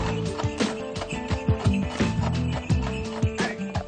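A horse kept by an artisan baker snorts and whinnies close by, with repeated short breathy calls and shuffling movement over a few seconds, a voice briefly heard in the background.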